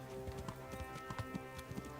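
Horse hooves clip-clopping at a steady running rhythm in the Kingdom Come video game, a regular pattern of soft thuds close by over a continuous bed of game sound.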